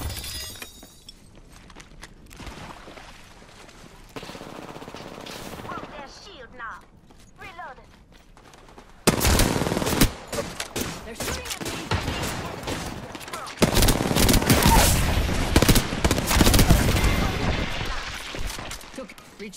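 Apex Legends gunfire, bursts of rapid shots and sharp impacts that grow dense and loud in the second half of the clip, with game voice lines in between.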